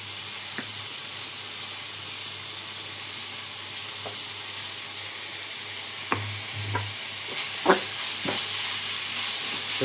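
Onion frying in oil with ginger garlic paste for mango chitranna gives a steady, even sizzling hiss, with a few light scrapes and taps of stirring toward the end.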